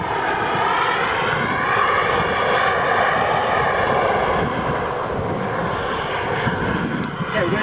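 A Boomerang model airplane with a Bavarian Demon gyro makes a low gear pass, its engine roaring loud and steady throughout with a slight swell as it passes near.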